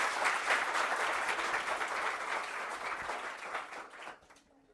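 An audience breaks into sustained applause at a ceremony honouring an agriculture entrance exam topper, dense clapping from many hands that holds steady and then tapers off near the end.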